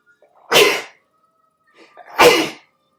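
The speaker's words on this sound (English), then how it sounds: "I feel a sneeze coming on." Two sharp, close sneezes about one and a half seconds apart, each a loud burst that falls away quickly, with a faint breathy intake before the second and quiet between them.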